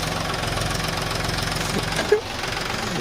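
A tractor engine idles nearby with a steady, knocking mechanical rhythm that runs continuously, broken by a brief thump near the end before the chugging carries on.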